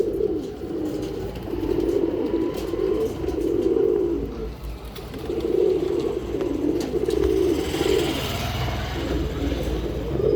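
Pigeons in a loft breeding section coo in repeated low, throaty phrases that swell and fade across the stretch, close and clear over quiet background rustle, with no voices.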